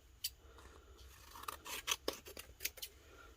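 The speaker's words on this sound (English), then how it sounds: "So I'm actually going to go ahead and trim this one quick." Scissors trim a strip of wrap for an epoxy tumbler: a few quiet, close snips and short rasping cuts in a rapid cluster, with no talk.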